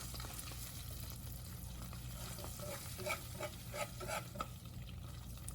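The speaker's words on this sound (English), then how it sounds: "Melt that cream cheese down now in that butter. Kind of stir it frequently because we don't want this to burn or stick." Cream cheese melting in butter in a pan, soft sizzling under a run of quiet spoon scrapes and stirring taps that grow busier toward the end, all fairly faint.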